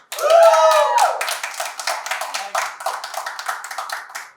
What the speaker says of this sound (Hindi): ठीक है तो इस बात को इधर ताली मारो